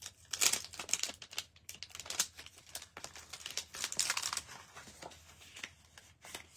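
Scissors snip and paper crinkles while pieces are cut for a handmade flower card. The close, busy rustle and cutting run unevenly throughout, with short pauses and no talk.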